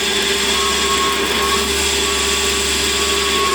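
A metal lathe turning at about 700 RPM while making a threaded adaptor, a loud, steady motor whine and hum with constant tonal lines, close and continuous with no talk.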